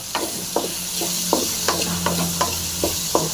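Bitter gourd fries in a pan for a pickle, a steady sizzle running under regular scraping stirs that knock about every half second, close and fairly loud, with no voices.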